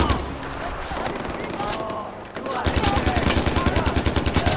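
Rapid automatic gunfire in a Far Cry 4 street battle where rebels fight, loud and close, with dense machine-gun bursts turning into a steady fast rattle in the second half, and a voice heard over it.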